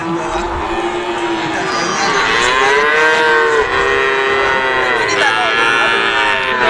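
Calves and cattle moo loudly and continuously at the Pati livestock market, several overlapping drawn-out calls close by over a busy crowd murmur.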